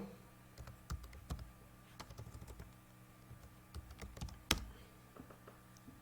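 A computer keyboard is typed on steadily and up close while a router command is entered, irregular soft key clicks with a few firmer strikes and one louder tap, no voices.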